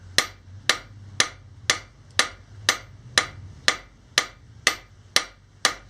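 Heavy hammer blows forging a Damascus steel knife blade, twelve sharp ringing strikes at an even, steady rhythm about half a second apart, close and loud over a low background hum.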